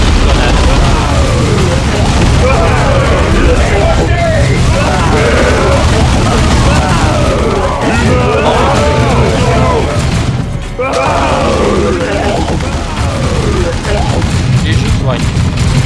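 Grenade blasts and gunfire boom in a Dawn of War battle, a dense, loud barrage of explosions and shots running throughout with a brief dip near the end, a voice talking over the din.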